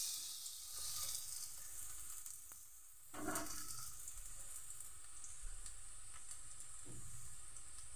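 Garlic frying in hot oil in a pan gives a steady close sizzle that surges briefly partway through, with no talk.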